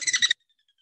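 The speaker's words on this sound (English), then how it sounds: "Possible call or song that you may hear from this bird." A rare bird at Bluff Lake gives a single quick, high chattering call of a few rapid notes, close and clear, ending abruptly into silence.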